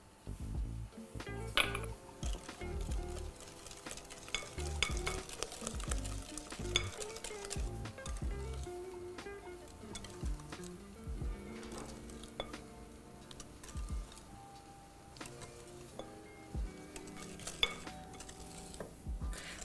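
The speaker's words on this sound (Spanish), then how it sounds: "Cuando terminamos entonces de mezclar ya nuestros huevos con el azúcar y la esencia de vainilla" Eggs being whisked with sugar and vanilla essence in a bowl for brownies, with soft irregular clinks and scraping strokes, close and quiet, continuing steadily without pause.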